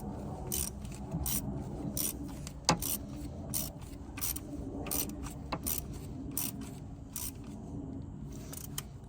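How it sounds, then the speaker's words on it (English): A socket wrench is tightening a bolt on a 2007 Honda Fit Sport during spark plug and ignition coil work. Steady quiet ratcheting clicks repeat at close range, with one sharper metallic tap midway and no talk. "So now I'm gonna get my socket back set up. Back on here. Tighten that bolt up the rest of the way."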